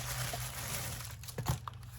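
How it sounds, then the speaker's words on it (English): A package being ripped open by hand, a close, continuous crinkling and tearing of wrapping with a sharper crunch near the end and no talking. "It says rip here. Okay,"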